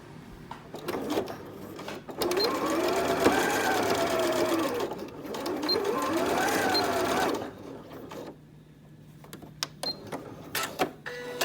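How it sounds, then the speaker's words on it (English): A sewing machine stitches twill tape along the far edge of a tea towel apron in two steady bursts of running, each a couple of seconds long, separated by brief handling and clicks, close and fairly loud. "flip it over, and stitch on the very far edge"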